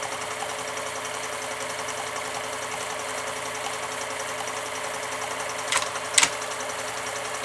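A rebuilt 1229 sewing machine stitches a dense buttonhole, running as a continuous even whir close by, with two brief clicks near the end.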